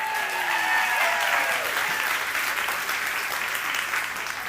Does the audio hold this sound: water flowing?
no